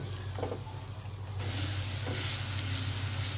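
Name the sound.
frying spices with garlic and ginger paste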